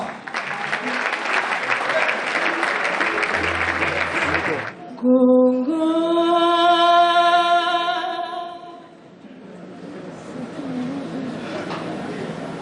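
A crowd applauds a band at a Made in Congo event, loud and dense for about five seconds before sustained musical tones take over and softer crowd noise lingers.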